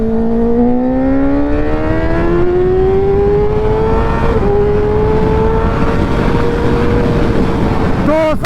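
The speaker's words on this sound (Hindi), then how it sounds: "इस रोड पे ना हम दिखाते हैं भाई कि कैसे ये 200 बाइक जाती है, वो भी 4th गियर में, ना के 5th गियर में।" A Kawasaki Ninja ZX6R sport motorcycle pulls hard in 4th gear, its loud engine tone climbing steadily for several seconds under strong wind rush, close and continuous.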